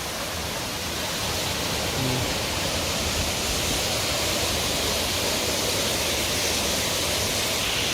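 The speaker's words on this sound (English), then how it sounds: "So as you can see, very beautiful waterfalls." A forest waterfall in Karura Forest pours as a loud, continuous broadband rush of water, close and unbroken, with no talk over it.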